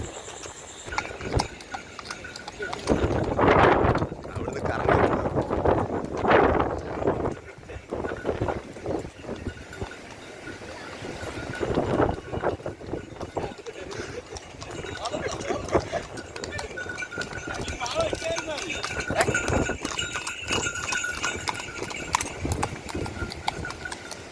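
Horse hooves clip-clop in a steady walking rhythm on a hard surface during a horse ride in Kanyakumari, while people talk over the sound throughout.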